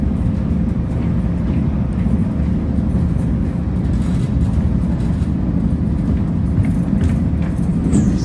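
A northbound Caltrain local train near San Carlos station makes a loud, steady, heavy low rumble that continues unbroken throughout.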